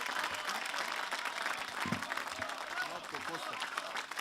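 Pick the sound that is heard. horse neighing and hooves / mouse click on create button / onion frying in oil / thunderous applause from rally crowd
thunderous applause from rally crowd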